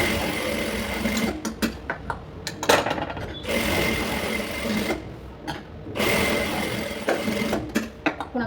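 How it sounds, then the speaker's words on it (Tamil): A sewing machine stitches a blouse shoulder seam in loud close bursts, running for a second or more at a time with brief pauses between runs, no voices. "ஷோல்டர் வந்து இப்போ ரெண்டு பக்கமே 2 தையல் போட்டுக்கலாம்."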